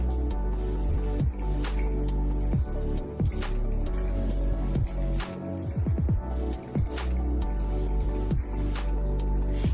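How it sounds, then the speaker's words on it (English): Water drips from a nostril during Jal Neti nasal cleansing, scattered irregular drips and soft squishes over a steady background hiss, with no talking. "from the other nostril, the water will start dripping, which further clears your nasal passageway"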